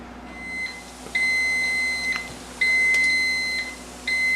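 A Magical Butter Machine infuser hums steadily while repeated high electronic beeps sound in long and short tones, close and fairly loud, as it powers up.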